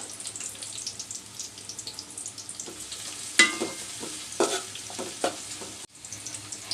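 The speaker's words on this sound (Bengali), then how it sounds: "এই তো হালকা নরম ভাজা হয়ে গেছে পেঁয়াজ" Chopped large onion frying in oil in a pan for white pulao, with a steady close sizzle and scraping stirs of a spoon that come in bursts, plus a brief clatter near the end.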